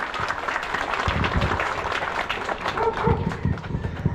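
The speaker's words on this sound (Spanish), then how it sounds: "Para que impida fuertes aplausos, por favor." An outdoor crowd at a road and sidewalk inauguration in Cruz de Mayo claps steadily and fairly loudly for several seconds, with voices mixed in beneath the applause.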